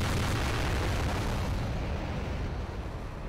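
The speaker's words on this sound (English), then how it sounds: "a super cannon on the top that, well, why don't I just show you what it does?" In Garry's Mod, the KV-44 super tank's super cannon fires and explodes in a huge, sustained roaring blast. The rumble is loud and close, fills the whole clip and eases off only slightly near the end.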